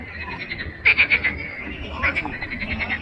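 Frogs croaking beside a river in Crimea, two short bursts of rapid, loud, nearby croaks over outdoor ambience, with a faint voice in the background.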